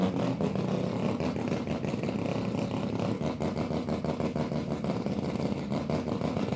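A Mazda RX2 drag car with a turbocharged two-rotor 13B rotary engine makes a continuous, loud, buzzy engine drone that holds steady at a drag strip.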